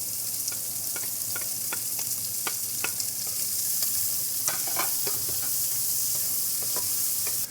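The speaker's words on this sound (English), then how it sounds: "Now I'm going to add my onions and my garlic." Onions and garlic sizzle with bacon in a hot pan for a French-style ragout, a dense, continuous loud frying hiss with scattered crackles and pops, no voices.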